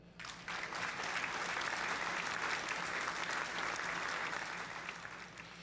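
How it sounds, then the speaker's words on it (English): Applause from a crowd, steady and dense, fills nearly six seconds after a quiet start, holding at an even loudness before easing slightly at the end. "That is giving you guys a round of beautiful applause"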